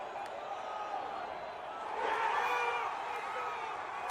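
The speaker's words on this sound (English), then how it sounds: "Listen to the roar of the crowd when this field goal was blocked." A home stadium crowd at a Chicago Bears football game against the Raiders roars after a blocked field goal. The sound is a distant, continuous wash that swells louder midway through.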